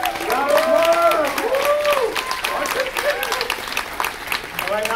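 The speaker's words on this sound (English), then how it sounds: "Round of applause." Audience at the Infinity Con 2021 cosplay contest claps for a costumed contestant, a steady wash of applause with voices calling out and talking over it close by.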